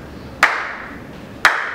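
Two sharp, loud hand claps ring out about a second apart in a reverberant space, each followed by a lingering echo tail.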